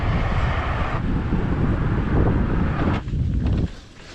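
Strong headwind buffets a cyclist riding slowly toward the Central Massachusetts Rail to Trail, a loud, steady low rumble of wind noise on the microphone that eases and drops away near the end.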